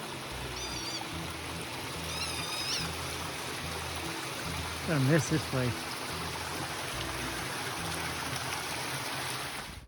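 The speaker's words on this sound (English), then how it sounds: "the water's way down so we can walk along the creek" A creek running low, steady broadband trickle and flow filling the whole clip in wooded land, with a voice speaking briefly over it midway.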